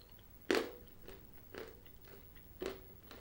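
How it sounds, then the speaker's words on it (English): Crunchy dark chocolate with salted caramel pieces being bitten and chewed, three distinct close crunches spaced about a second apart, with quieter chewing in between. "it's quite chewy in your mouth, quite crunchy in your mouth"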